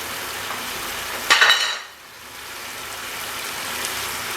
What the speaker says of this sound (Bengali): মশলা এবং আনারস খুব ভালো করে কষিয়ে নিয়েছি আমি